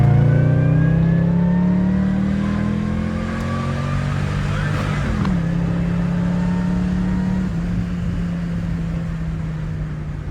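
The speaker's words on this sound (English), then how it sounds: "And you really hear the supercharger when I do this." Supercharged Pontiac GTO accelerating hard in second gear with traction control on, a loud, steady engine roar and rising supercharger whine close by through the whole stretch, with a brief dip mid-pull before the note carries on.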